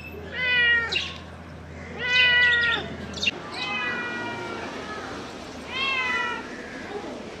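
A chatty cat meowing close by, a series of four drawn-out, wavering meows with short pauses between them over a faint background hum.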